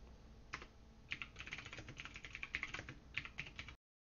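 Fast, continuous typing on a computer keyboard for a TRS-80 Model I, with crisp, close key clicks in uneven bursts that stop abruptly near the end.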